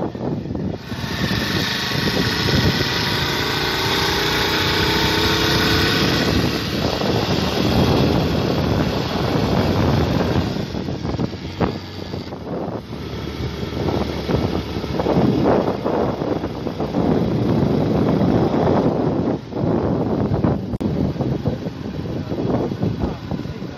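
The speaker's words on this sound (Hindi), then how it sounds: "अभी इंजन की आवाज़ भी सुनाता हूँ मैं आपको" A 2022 Honda CD 70 motorcycle engine drones steadily throughout, loud and close, carrying three riders, with heavy wind rush buffeting the microphone as the bike rides along.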